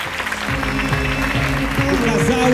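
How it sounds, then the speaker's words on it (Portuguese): Applause fills the room at a fifteenth birthday party, continuous clapping from a large group of guests under loud amplified voices and a music-like tonal backdrop. "Uma grande salva de palmas"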